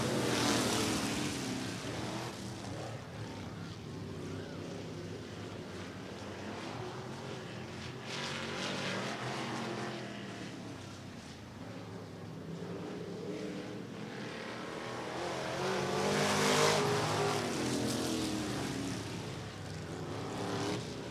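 Several sprint race cars roar around a speedway oval under a Western Sprint Tour green flag, a steady loud engine drone that swells and fades as the pack passes, with a louder surge near the end.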